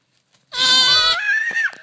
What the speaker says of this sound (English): What noise does a lamb make?